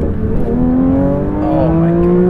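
A 2022 Porsche 911 GT3 engine revs hard and climbs in pitch, a loud, close, continuous high-revving wail with no talking.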